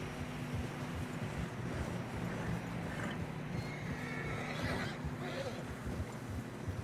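Horses whinny and snort in Red Dead Redemption 2 while struggling through fresh snow on a narrow path, amid a steady rush of wind and low rumbling, with a voice speaking briefly in the background.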